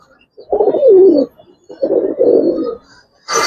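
A Giribaz pigeon coos loudly right up close in two distinct rolling phrases separated by a short pause, with a brief sharp noise at the very end.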